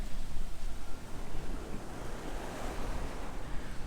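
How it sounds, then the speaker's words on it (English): Ocean surf rolls in steadily along Myrtle Beach on a calm but breezy day, a continuous broadband wash of waves with wind rumbling against the microphone, no voices present. "Love that sound and smell of the ocean."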